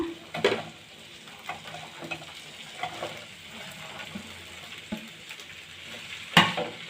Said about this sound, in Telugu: ఇప్పుడు చిక్కుడుకాయ వేసుకుంటున్నాను